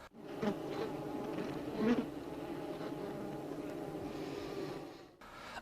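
A dense, continuous buzzing of honeybees around a hive, droning steadily at close range with slight swells in loudness and no voices.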